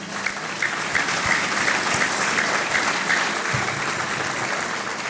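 A banquet-room audience at a mayor's business luncheon gives a sustained round of applause for the event sponsors. The clapping is dense, steady and even for about five seconds, with no voices over it.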